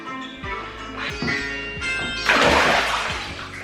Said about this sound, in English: I just dropped my phone into the tub.